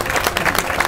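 An audience applauds at a Pakistani political talk show event, a dense, loud burst of many hands clapping close by with no break in the sound.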